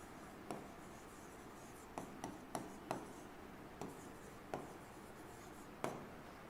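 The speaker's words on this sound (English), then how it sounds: "let me write it down here" Faint, sparse writing on a board: scattered soft taps and light scratches spaced out over a quiet, hissy background, with no voice.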